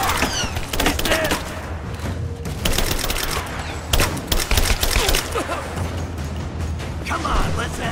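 Gunfire in the Rise of the Tomb Raider video game, dense rapid bursts of automatic shots and impacts running almost continuously, loud and close, with shouted combat voices mixed in.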